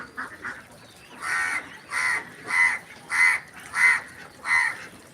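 A crow caws six times in a regular, evenly spaced series, each call loud, harsh and close, with quiet farm background between the calls.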